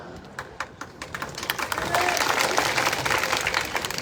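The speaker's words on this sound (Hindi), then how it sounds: "आपने ताली बजा दी" A crowd at a political rally in Mandsaur, Madhya Pradesh, bursts into applause. After a second of quieter crowd noise, the clapping swells into a loud, dense, sustained roar of many hands.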